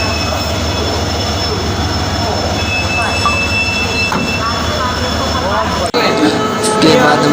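A train engine being coupled to a train sets off a steady, loud rumble of rail machinery with faint metallic squeals, capped by a sharp clank near the end; people talk faintly in the background.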